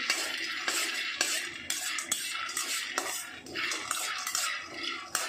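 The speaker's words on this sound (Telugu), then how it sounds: "ఇక పప్పులు ఫ్రెండ్స్, పప్పులు వేయించుకోవాలి. ఈ సిమ్లో పెట్టుకొని వేయించుకోవాలి ఫ్రెండ్స్" Dal dry-roasting in a pan over a low flame for peanut chutney, with a spatula scraping and clinking against the metal in quick, uneven strokes and the lentils rattling and shuffling close by.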